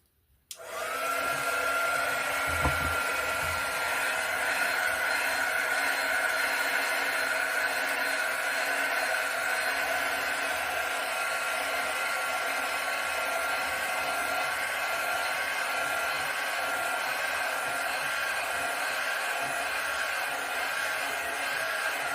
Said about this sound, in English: Let me hit this with a heat gun quick.